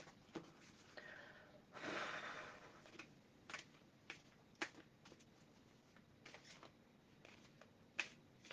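A deck of oracle cards is shuffled by hand, with a brief soft riffling burst and scattered light card snaps and taps, all quiet and close.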